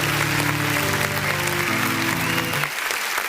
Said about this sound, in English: Round of applause for our team.